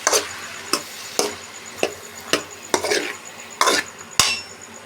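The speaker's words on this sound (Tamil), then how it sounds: "இது நல்லா அப்படியே எண்ணெயிலே வதக்கணும்" Wild foraged mushrooms are sautéed in oil in a pan. A spatula scrapes and stirs in about eight distinct, evenly spaced strokes over a faint sizzle, close and fairly quiet, with no voices.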